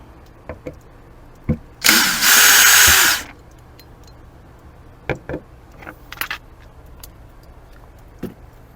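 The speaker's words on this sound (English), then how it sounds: "the first thing we got to do is just take out these 4 screws" Power drill removing screws from an RV door lock, one loud whirring burst of about a second, close, surrounded by scattered clicks and clinks of handling the lock hardware.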